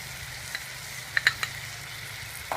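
Lumpiang ubod filling with soy sauce, sugar and salt being stirred in a pan over a quiet, steady sizzle, with a few faint scraping clicks of a utensil against the pan.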